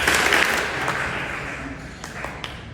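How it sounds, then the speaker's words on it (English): Gala audience applauding in a dense, steady wash of claps that swells at the start and gradually thins, with a few sharper individual claps near the end; the double-clap rhythm is not distinct. "How about a double clap for PCHO?"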